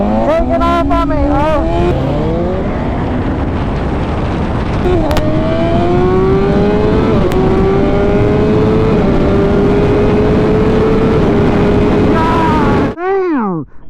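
A Tesla Model S Plaid launches hard in a drag race against a BMW S1000RR, its loud rising whine sweeping upward with the superbike's revving engine, tire noise around it, and a quick roar passing close at the end.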